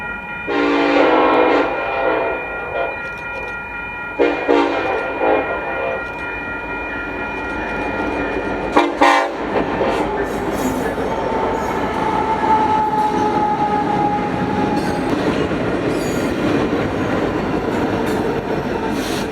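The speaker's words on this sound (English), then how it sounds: "ZG2SC being led by a repainted SD70AH with the crew giving us a horn show" A repainted SD70AH leads a freight train in Utah, its crew sounding the horn in several loud, rhythmic blasts, then the heavy rumble and clatter of the passing rail cars carries on steadily.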